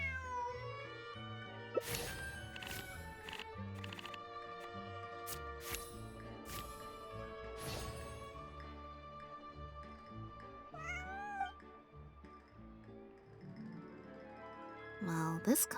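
A cat meows repeatedly in the video game Genshin Impact, several clear, close meows spread over game music, with chimes and tinkles around them and a voice heard at times.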